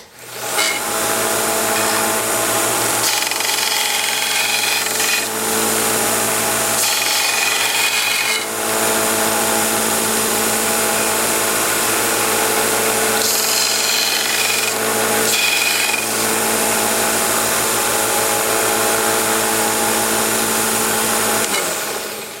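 A lathe chisel being sharpened on a 1x30 belt sander, the belt running with a steady loud whine and a rough, rasping grind as the steel is rolled back and forth across it, with brief lighter pauses.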